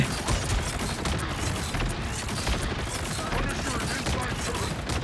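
Rapid gunfire from Marvel Rivals, a dense continuous stream of shots and impacts that stays steady and busy from start to end, with talk underneath.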